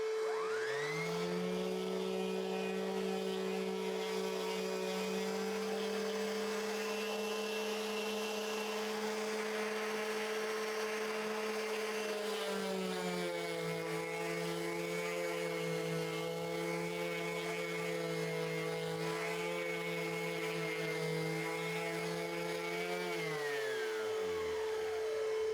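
A corded Skil rotary sander fitted with an 80-grit disc runs continuously with a steady whine that dips in pitch midway and winds down at the end, heard alone and close.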